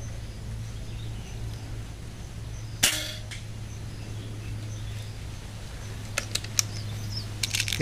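A single sharp shot from a Baracuda Match air rifle at about 65 meters cracks out over a steady low hum, followed later by a few faint metallic clicks.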